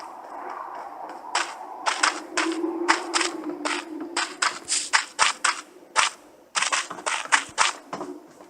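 Gunshots in the Knives Out video game, rendered as a string of sharp, irregular cracks, some fired in quick bursts and others spaced apart, at moderate volume with no speech over them.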